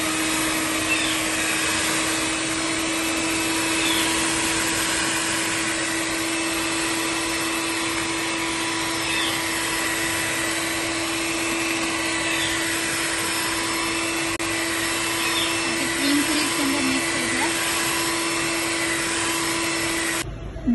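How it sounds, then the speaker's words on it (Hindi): Electric hand beater whipping cream for custard, a steady, loud, even whir with a constant motor tone that runs unbroken for about twenty seconds, then cuts off at the end. "अब मैं इसको बीट करने लगी हूँ।"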